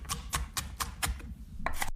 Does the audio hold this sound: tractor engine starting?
no